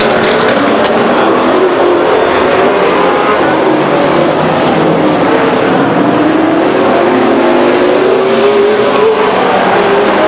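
Race cars roar around Stockton 99 Speedway, a dense continuous engine drone with pitch rising and falling as cars pass, loud and sustained throughout without talk.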